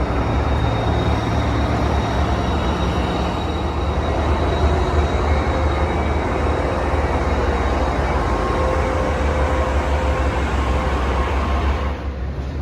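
Amtrak City of New Orleans train hauled by a new Siemens ALC-42 Charger locomotive, unit 304, heard from on board as a steady, loud, continuous rumble that lasts throughout and eases slightly at the very end.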